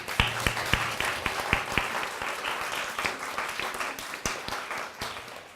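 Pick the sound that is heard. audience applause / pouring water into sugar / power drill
audience applause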